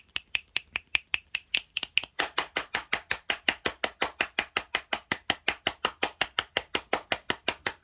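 Fingers click in a rapid, steady series of sharp snaps, dozens in a row, close and crisp, speeding into an even rhythm that continues throughout.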